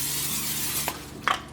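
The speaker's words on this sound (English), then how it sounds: "I'm going to spray with a little bit of cooking spray" A short hiss of cooking spray into a casserole dish, steady for under a second, followed by a couple of light clinks and a second brief spritz.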